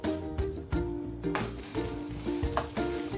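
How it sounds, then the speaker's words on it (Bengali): Mashed taro (maan kochu) is stir-fried in a pan, spatula scraping and knocking against the metal in irregular strokes over a low sizzle, close by. "এভাবে আমি আরো 10 থেকে 15 মিনিট খুব ভালো করে মিশিয়ে নেব।"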